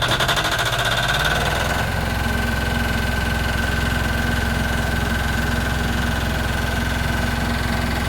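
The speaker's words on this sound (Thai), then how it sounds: "ใช้เครื่องดีเซล" A large diesel engine in the engine room of a farm runs loud and steady throughout, its tone shifting and settling just before the two-second mark as it comes up to speed.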